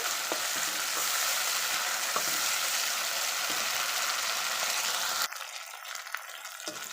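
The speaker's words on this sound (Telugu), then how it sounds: "ఈ అల్లం పేస్ట్ కూడా బాగా ఫ్రై చేసేసుకోవాలి" Ginger paste frying with onions in an oiled pan for a Telugu tripe curry, a continuous close sizzle with faint stirring scrapes, turning thinner and quieter for the last couple of seconds.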